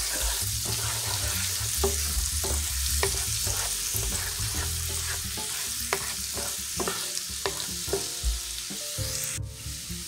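Minced garlic sizzles in melted butter in a pan for butter garlic parmesan bowtie pasta, a loud continuous fry with repeated stirring scrapes and taps, and a brief hiss rising at the end.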